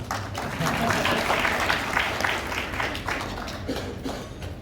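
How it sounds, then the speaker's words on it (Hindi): Audience clapping at a press conference, a moderate wash of scattered hand claps that swells and fades, with speech partly overlapping. "हाँ, बजा लीजिए ताली"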